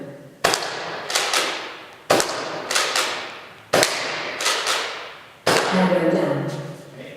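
Airsoft guns firing at practice targets, sharp close cracks in small bursts of two or three with brief rattling decay between, the last shot trailing into a longer noisy tail.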